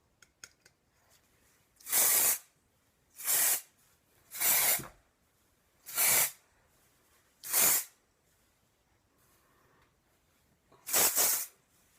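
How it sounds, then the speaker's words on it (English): Dry shampoo is sprayed onto hair in six short, loud, close aerosol bursts with quiet pauses between them, and a longer gap before the last burst. "I'm going to use a little of this Sephora dry shampoo"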